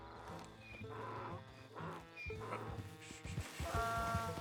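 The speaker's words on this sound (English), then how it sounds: "Is it just a donkey? I think it is." Donkey in the video game Red Dead Redemption 2, braying and snorting in a few harsh, close calls with a rhythmic huffing, moderately loud with little else around.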